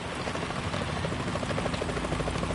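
Helicopter in Metal Gear Solid 2, a loud, steady rotor chop with rapid rhythmic pulsing over an engine drone, heard up close with no speech.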